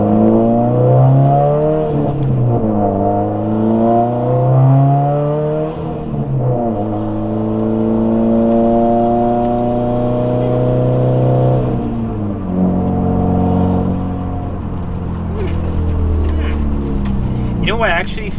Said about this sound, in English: I just heard the transmission. It's like a little whine there